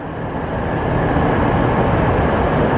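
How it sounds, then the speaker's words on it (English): A double-decker train pulls into a Brussels station platform, a dense steady rumble of rolling stock growing slightly louder as it draws near, no voices. "This is our train. Is it double decker?"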